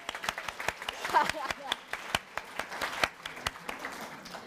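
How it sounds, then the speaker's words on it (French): A small audience at a science event gives a brief round of applause, sparse distinct claps with uneven rhythm, moderately close and fairly soft. "Allez, un applaudissement encore."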